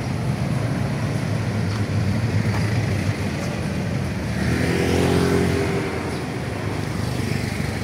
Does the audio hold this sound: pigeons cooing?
no